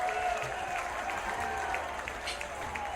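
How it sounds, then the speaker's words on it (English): A comedy-show crowd gives a round of applause for the performers, sustained clapping with a few cheers and a faint voice underneath. "Round of applause."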